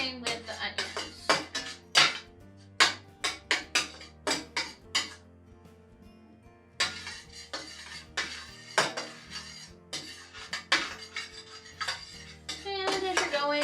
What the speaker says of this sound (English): as you're going, you're gonna keep scraping the pan